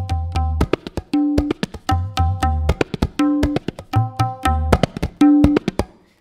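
Tabla strokes in a Lucknow-style court composition, a quick run of crisp taps mixed with ringing, pitched resonant strokes, repeating in a lively pattern with short pauses, played alone and close.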